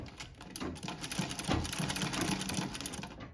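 A Singer Model 15-30 sewing machine stitches with a short stitch length, giving a fast, steady mechanical whir and rapid needle clatter, fairly quiet and uninterrupted, with no voices.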